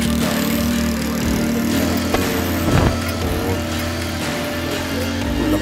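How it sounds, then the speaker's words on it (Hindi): A motorbike engine drones through a narrow guesthouse lane, a steady close putter that swells briefly around the middle and carries on throughout. "और ये एक मोटर बाइक वाला भी"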